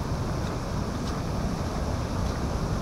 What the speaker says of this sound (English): Now there's a waterfall over here